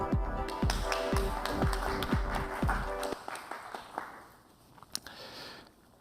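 An audience applauds to welcome a speaker onto a stage. Steady, dense clapping fills the start over a rhythmic thumping beat, then thins to scattered claps and fades.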